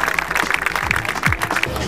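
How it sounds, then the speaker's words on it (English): Clapping from a crowd at a celebration dinner at OSH 2011, a brief, dense burst of applause in a large room, fairly loud and continuous, with voices mixed in. "I'd like you to have a big round of applause to Jimmy Lee Ward and Bob Odegaard."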